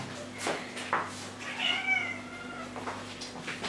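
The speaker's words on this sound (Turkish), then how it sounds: "Şimdi kedimizi alıyoruz." A pet cat meows several times in a row, close and clear, with no talking over it, indoors against a steady low hum.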